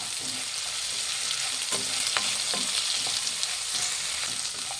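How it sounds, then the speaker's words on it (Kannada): Radish chutney mixture fries in a pan with a continuous close sizzle, punctuated by repeated scraping stirs and light spatula knocks throughout. "ಒಂದು 4 ನಿಮಿಷನಾದರೂ ಹುರಿಬೇಕಾಗುತ್ತೆ ಚೆನ್ನಾಗಿ"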